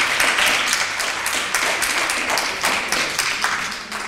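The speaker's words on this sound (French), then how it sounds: "On peut l'applaudir bien fort." An audience applauds a jewelry artist at a lecture event, with close, brisk hand clapping in a steady, fairly loud patter that continues for the whole stretch.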